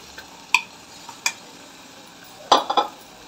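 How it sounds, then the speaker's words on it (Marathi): Prawns go into a pan of masala already frying in oil, with cumin powder and garam masala, giving a few sharp clinks and clatters against a quiet background, with no speech. "आता आपण कोलंबी टाकून घेऊया"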